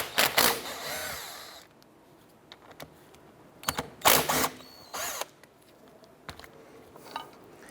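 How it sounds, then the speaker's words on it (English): A 14mm socket wrench working on the brake caliper slide pin bolts of a 2008-2012 Honda Accord, heard as close bursts of ratcheting clicks and metallic rattles separated by quiet pauses. "Using a 14mm socket, we're going to remove our slide pin bolts here."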